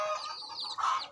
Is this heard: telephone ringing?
no